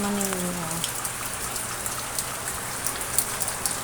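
Heavy rain pours steadily onto flooded ground in front of a house gate, a dense continuous patter with close drops, while a brief voice is heard at the start.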